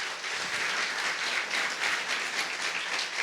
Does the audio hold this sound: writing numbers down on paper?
no